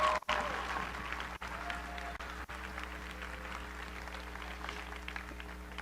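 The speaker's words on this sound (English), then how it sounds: "Let's give them one more round of applause." Steady applause at a high school athletic signing day event honoring the class of 2023, a faint, distant, continuous patter of many hands clapping that lasts throughout.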